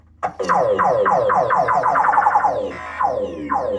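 A Sorcerer pinball machine in play sends out loud electronic sound effects: a rapid string of warbling, rising and falling tones that sweep for a few seconds, pause briefly, then start again.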